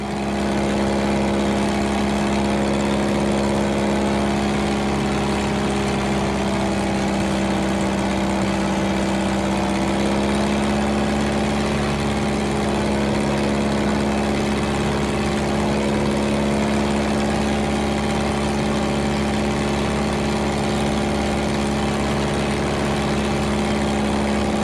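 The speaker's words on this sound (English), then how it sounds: "Injected engine has an immediate throttle response" A fuel-injected engine on an FX3 light aircraft, a Super Cub-type plane, runs with a steady, loud, continuous drone and strong low harmonic hum throughout, with no talk.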